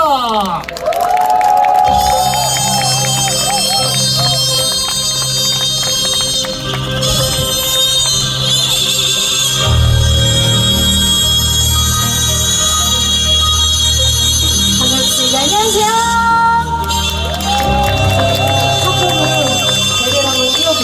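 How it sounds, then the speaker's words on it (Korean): An audience at an outdoor heritage concert featuring a Korean traditional gugak singer applauds and cheers loudly. Shouts and whoops blend with steady clapping under prominent music throughout. "박수 함성!"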